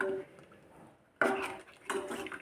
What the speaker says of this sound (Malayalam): ഇത് നന്നായിട്ടൊന്ന് ഇളക്കി യോജിപ്പിക്കാം